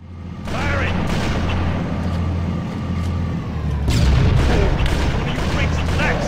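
Heavy weapon fire and explosive booms from the video game Halo: Combat Evolved, a steady barrage of loud blasts and rumbling impacts that swells in the second half.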